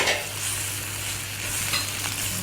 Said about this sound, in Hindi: अब ये हम इसको थोड़ा सा भून रहे हैं।